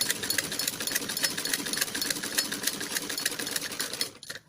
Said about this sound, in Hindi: आसन के पार्ट की दोनों सिलाइयाँ इसे स्टिच कर लें